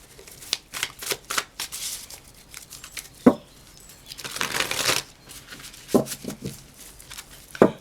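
Tarot cards being shuffled close by, a run of quick riffles and soft flicks in uneven bursts, with a longer riffle near the middle and a few sharp taps.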